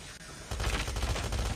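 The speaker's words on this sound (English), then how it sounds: "Oh my god, I missed the first few shots." Rapid burst of automatic gunfire in the mobile shooter game COD Mobile, a dense continuous volley starting abruptly after a quiet moment and staying loud and close to the end.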